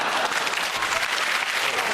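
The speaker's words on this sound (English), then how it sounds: "Everyone clap, Adrian." Studio audience applause on a British panel comedy show, steady dense clapping filling the room without a break, loud and close.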